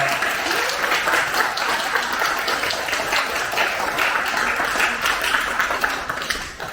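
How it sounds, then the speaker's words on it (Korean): Steady, dense applause from an audience at a university business school scholarship ceremony welcoming a senior professor to the podium, sustained and fairly loud throughout without talk. "큰 박수로 환영해 주시기 바라겠습니다"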